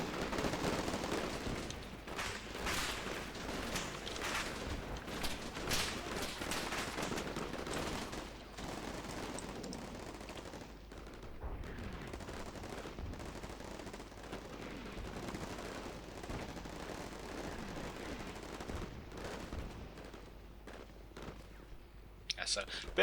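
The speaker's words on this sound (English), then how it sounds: "So, a bit of a firefight going on there." Bursts of machine-gun and rifle fire rattle through a firefight in the Combat Mission Shock Force 2 video game, dense and sustained at first then thinning, with someone talking over it.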